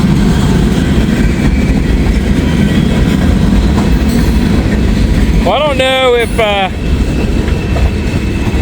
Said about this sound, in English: A long train, man.